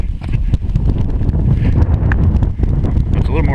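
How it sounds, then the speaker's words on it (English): Strong wind buffets the microphone on the summit of Mount Katahdin in Maine, a loud continuous roar with gusts throughout. "It's a little more windy up here."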